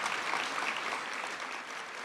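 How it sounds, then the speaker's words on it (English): Luncheon audience at a state bar annual meeting applauding after a pledge is recited, a soft, distant, steady patter of many hands that tapers slightly toward the end. "Let's give them a round of applause."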